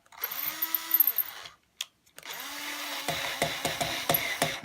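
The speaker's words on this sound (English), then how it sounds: "I'm drilling it with an air hammer." A power drill runs into a Squier Jaguar Short Scale bass guitar body in two bursts, whining and rising in pitch, the second ending in rapid rattling hammer-like pulses; quiet, with no talking.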